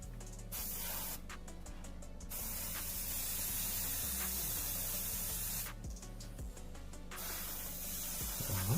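Compressor-driven paint sprayer hissing in two strong bursts of a second or more each, with a steady low compressor hum running beneath throughout; the compressor is wearing out and unreliable.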